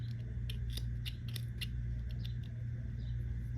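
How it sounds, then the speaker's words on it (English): Scissors snipping a yarn tail during crochet work, making a series of small, close, crisp clicks over a steady low background hum. "if this yarn tail is getting in the way, cut it."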